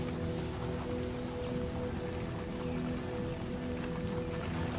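Steady rainfall on open African bush where a cheetah mother shelters her cubs, a continuous even patter of drops that runs unbroken throughout.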